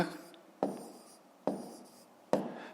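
A pen writes out a math solution on paper in three distinct strokes, each a sharp close tap trailing into a short scratch, spaced under a second apart in a quiet room.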